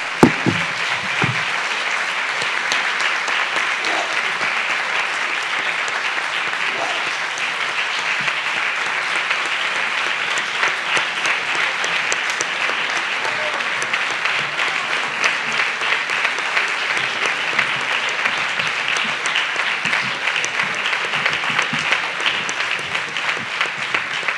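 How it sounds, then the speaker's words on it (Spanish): An audience gives a long, sustained round of applause to a film team after a screening. Dense, even clapping rolls on for about twenty-five seconds without fading. "vamos a dar paso con un fuerte aplauso al equipo"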